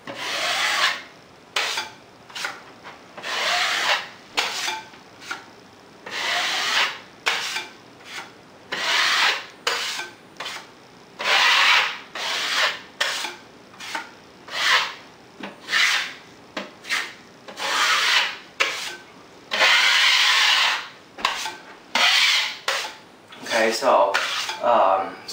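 A putty knife skims joint compound over the seams of vinyl wallpaper, with a close series of about twenty scraping strokes in an uneven rhythm, each a short gritty swipe separated by brief pauses.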